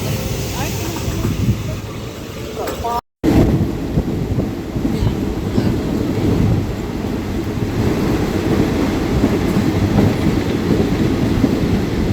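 A train in Thailand rumbles steadily along the tracks to Ayutthaya with a continuous low roar and faint clatter, the sound briefly cutting out before resuming.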